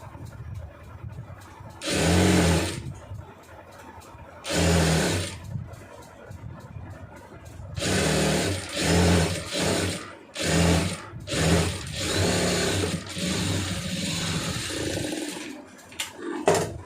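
Sewing machine stitching churidar pants, running in several loud, steady bursts of rapid mechanical whirring separated by short pauses, close to the microphone with no talking.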